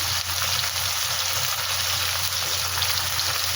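Green chillies go into a hot frying pan alongside prawns, and the oil answers with a steady, close sizzle and crackle that holds evenly throughout.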